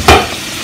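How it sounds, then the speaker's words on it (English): A sausage frying in a pan is stirred once, giving a short scraping clatter over a steady, loud sizzle that carries on briefly with no voices. "I'm going to do a little stirring of the sausage"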